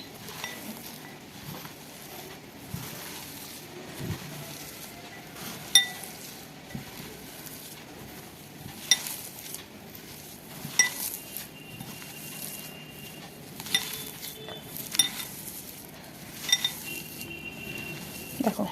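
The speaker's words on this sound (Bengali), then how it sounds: "আমি এখন মেখে নেব এটা একটু শুকনো শুকনো করে মেখে নিতে হবে" Coconut prawn pakora mixture with boiled potato being mixed in a bowl, heard as faint, irregular clinks and soft pattering knocks against the bowl over quiet background noise.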